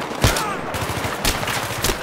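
Rapid bursts of gunfire from a Battlefield 3 firefight, close and loud, with sharp repeated shots and a heavier blast near the start, clustered volleys recurring across two seconds.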